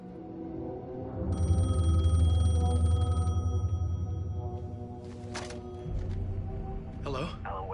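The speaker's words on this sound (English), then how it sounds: "The payphone was ringing." A payphone rings in the video game Alan Wake II, a steady electronic trill lasting a couple of seconds over a low rumbling background, then giving way to scattered game sounds.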